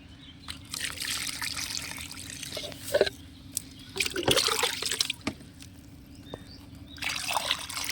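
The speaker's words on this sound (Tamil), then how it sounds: "இப்போ இந்த தண்ணியை நல்லா கலந்து விட்டுட்டு எடுத்து நாம் செடிக்கு கொடுத்துடலாம்." Water mixed with fertilizer is poured onto a jasmine plant. The soft liquid splashing and trickling comes in uneven bursts against a quiet background.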